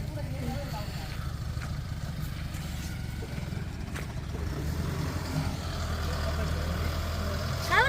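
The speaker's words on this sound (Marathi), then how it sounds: "एक गाडी खाली झाली आणि दुसरी गाडी खाली हो राहिली" A loaded truck tips out its sand at a site where more sand and gravel loads are due, its diesel engine rumbling steadily up close and growing slightly louder, with faint voices in the background.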